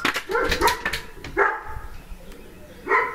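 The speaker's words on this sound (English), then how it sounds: "I tapped the door so the dogs are barking." Dogs barking indoors after someone taps on a door; a few close, sharp barks come in short bursts separated by quieter gaps.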